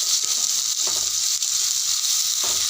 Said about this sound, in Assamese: এতিয়া আদা নহৰু অকণমান দি অলপ সময় ৰঙচুৱা হোৱালৈকে ভাজি ল'ম।